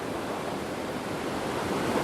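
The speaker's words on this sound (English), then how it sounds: "which is Bridal Veil Fall as they call it here. This thing is huge. It's spraying water everywhere." Bridal Veil Fall in Yosemite pours and sprays water, a loud, dense, unbroken roar of falling water that fills the whole moment without any speech.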